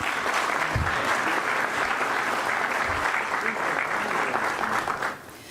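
A crowd claps loudly and steadily throughout, dense and sustained, then tapers off at the very end.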